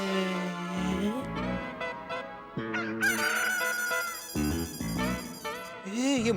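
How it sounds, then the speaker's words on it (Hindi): A rooster crowing played as a phone ringtone, with electronic tones repeating loudly and steadily. "ये मुर्गे की आवाज तो इस फोन में से आ रही है।"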